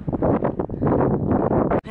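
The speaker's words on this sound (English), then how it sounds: "Still a bit windy, and that wind has got a bit of a chill to it." Chilly wind blows hard on a mountain trail, roaring and buffeting loudly against the microphone in continuous gusts before dropping off abruptly at the end.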